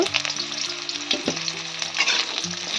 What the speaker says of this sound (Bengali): তেল তেতে গেছে, আমি প্রথমে উচ্ছেগুলো ভেজে নেব, লাল করে ভেজে নেব